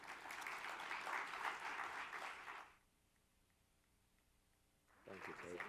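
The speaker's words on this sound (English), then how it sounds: "Please give them a round of applause." Audience applause for panelists at a child welfare forum, a burst of clapping from the crowd for a few seconds, then near silence before a voice begins speaking.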